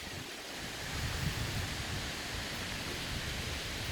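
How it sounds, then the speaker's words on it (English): Steady wind on a cool, bright day, a broad, continuous rushing roar with no talk, holding a fairly even level and swelling slightly after the first second. "because it is very windy"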